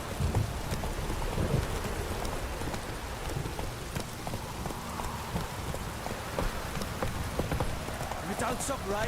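Steady rain pours down in The Witcher 3, a constant hiss that runs throughout, with horse hooves clip-clopping through it and occasional speech over the top.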